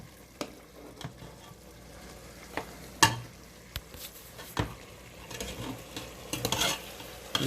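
A spoon stirs vegan jambalaya with pepper in a hot sizzling pot, giving scattered scrapes and knocks over a steady low frying hiss, with a busier burst of stirring near the end.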